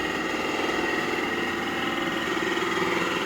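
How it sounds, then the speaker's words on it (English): A drill or coring tool cuts holes through a wall for bathroom exhaust vents, a continuous loud, buzzing motor drone that holds steady throughout. "The sound that you're hearing is we're putting the holes in the wall for the exhaust vents in the bathroom."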